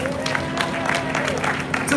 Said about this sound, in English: so we could give them another round of applause